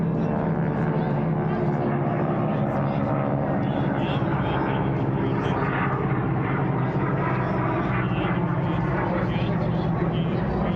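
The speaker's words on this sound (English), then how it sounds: "Oh, they have a flyover going on?" Aircraft flyover above an outdoor Memorial Day car show, heard as a continuous loud low engine roar that stays constant throughout with no clear approach or fade.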